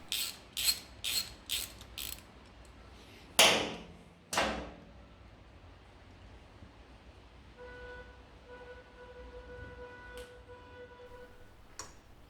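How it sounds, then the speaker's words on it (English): Ratchet wrench with an 18mm spark plug socket loosening a motorcycle spark plug: a quick series of five sharp clicks, then two louder clunks, followed by a quiet stretch with faint ticks, close and alone. "Then using an 18mm spark plug socket, remove the spark plug."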